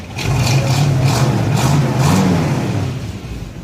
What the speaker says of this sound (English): Engine sounds good, no smoking, no ticking.